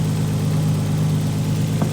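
A stock Nissan Skyline with an RB20 engine, Apexi air filter and ISR downpipe idles with the hood open, a steady, loud, close mechanical drone holding an even pitch throughout.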